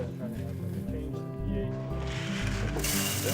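Malt grains being ground in a grain mill for homebrewed beer, a loud rhythmic ratcheting, grinding churn that grows harsher and noisier partway through, with a voice talking over it.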